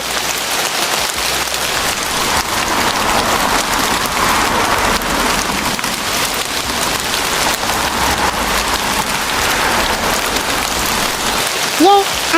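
Steady, dense rain patters continuously in an Avatar World game scene, a loud hiss with no pause, ending with a short tonal blip.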